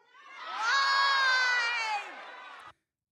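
A political rally crowd shouts a one-word answer in unison, a loud sustained roar of many voices swelling for about two seconds and then fading out.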